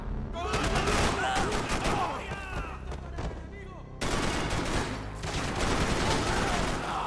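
Rapid pistol shots in Max Payne 3 crack out loud and close in a near-automatic stream, continuing through the whole stretch with the odd break, amid dense game action and faint voices.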